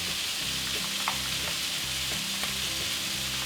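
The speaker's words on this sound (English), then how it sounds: "I'm going to go ahead and put in my garlic." Garlic sizzles in a pan while pork fried rice is cooked, a close, continuous frying crackle with faint stirring taps and no speech.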